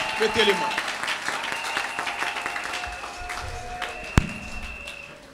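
A church congregation applauding and acclaiming Jesus during worship, dense clapping and crowd noise filling the space with a sharp thump near the end, mixed with voices.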